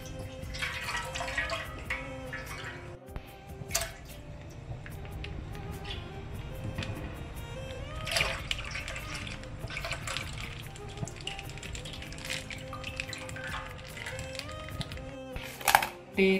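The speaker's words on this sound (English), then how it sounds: "Now to a vessel where you're going to make the payasam, add 1 liter of milk." Milk, one liter, pours into a cooking vessel for Kerala-style carrot and sabudana payasam, a steady liquid stream with a few brief clinks of the pot, moderately close in a home kitchen.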